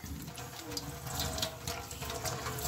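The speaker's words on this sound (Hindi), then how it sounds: "ये रोटियाँ, इनको मैं अभी पानी से गीला करूँगी" Water running from a tap to wet tandoori rotis in a home kitchen, a steady close splashing stream that continues without pause and with no talking.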